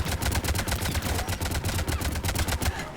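Rapid automatic gunfire in the sci-fi shooter Mass Effect 3, a dense, continuous rattle of loud shots with heavy low thump and no talk.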